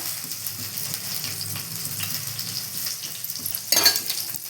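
Slit green chilies hit hot oil for a Marathi tempering, giving a steady, close crackling sizzle with a brief louder spatter near the end and no talking.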